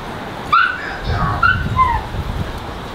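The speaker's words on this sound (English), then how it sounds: "Neighbor's dog." A neighbor's dog barking and yipping outdoors near a mobile home on a windy day, a few sharp high barks and whimpers in quick succession, moderately close and heard alone with gusty wind underneath.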